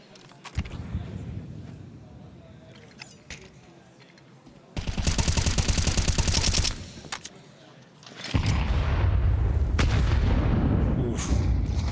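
Counter-Strike gunfire punching through a wall, loud bursts of rapid shots in two long stretches with scattered single cracks before and between them, a commentator's voice faint beneath.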